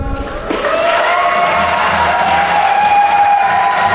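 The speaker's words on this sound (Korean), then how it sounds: "신랑의 힘찬 발걸음에 뜨거운 박수와 함성 부탁드립니다" Wedding guests at a convention-hall ceremony break into loud, continuous applause and cheering as the groom enters, over steady music with sustained melodic tones.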